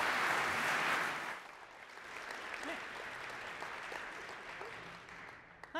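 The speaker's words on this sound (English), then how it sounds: "Please give her a warm round of applause." A conference audience gives a speaker a warm round of applause, loud at first and then easing into softer, scattered clapping that continues to the end.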